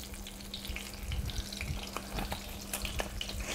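Chard sizzles in a skillet with a little oil on a gas stove, a steady close frying hiss with soft crackles and a stirring scrape or two, no voices.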